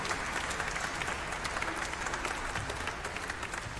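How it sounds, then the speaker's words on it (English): Audience applause rings out at an event in the video game Eliza, a dense, steady clatter of many hands clapping continuously at moderate distance. "Everybody clap your hands."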